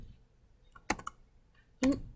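A few separate key presses on a computer keyboard, including a tab key, while working in an Excel spreadsheet; quiet clicks spaced well apart against a low background.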